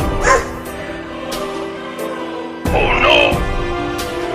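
A cartoon dog barks and yips a few times at close range, with bursts of excited sound and some background noise between them.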